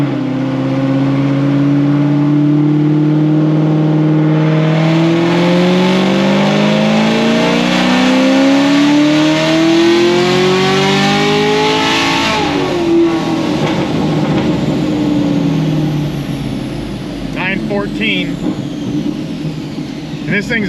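A Stage 5 Chevrolet Camaro ZL1 on a dyno, running roughly 30% ethanol on 15-inch tires, pulls hard as its loud engine note climbs steadily for several seconds, then drops off and keeps running at a rougher, lower pitch.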